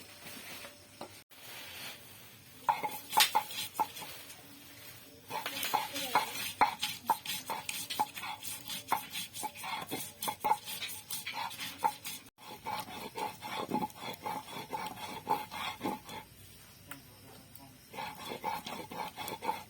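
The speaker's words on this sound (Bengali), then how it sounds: "আমার যেহেতু মিক্সার নেই সেই জন্য আমি শিলপাটায় বেটে নিচ্ছি" Yellow peas (matar dal) are ground with green and ripe red chillies on a stone slab with a grinding stone, the shil-pata. Repeated gritty scraping strokes run in quick rhythmic bursts with short pauses, fairly faint and close.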